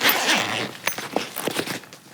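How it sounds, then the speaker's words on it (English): A Velcro flap on a Duravo carry-on suitcase is pulled open, making a close ripping tear followed by a few soft fabric rustles and small handling taps, with no speech. "It's a flap, Velcro flap."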